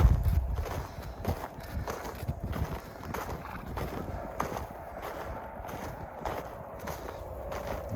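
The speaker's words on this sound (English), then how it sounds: "horse we got that they call Miller" Horse on a farm walking, with irregular hoof clip-clops close by over faint wind noise, fairly quiet and uneven in rhythm.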